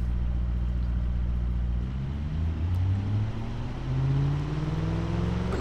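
Simulated car engine fitted with two straight-through mufflers per side in the Automation game, a deep rumbling drone whose pitch rises and falls in revving sweeps, steady and fairly loud.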